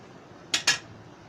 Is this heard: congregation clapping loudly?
no